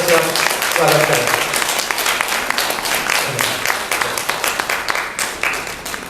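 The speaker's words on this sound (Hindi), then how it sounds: "तो एक बार हमारी इस बिटिया के लिए भी जोरदार तालियों से आप स्वागत करें।" An audience at a farewell ceremony breaks into sustained, vigorous applause, a dense continuous clatter of many hands with a few voices faintly audible beneath it.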